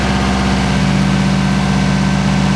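A Subaru WRX GC8 rally car with a newly fitted baffled sump idles just after start-up, a steady, close, rhythmic engine burble with no talking over it.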